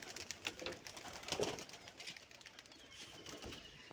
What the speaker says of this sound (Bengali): তো কবুতরগুলো বের হয়ে একটু উড়াউড়ি করছে।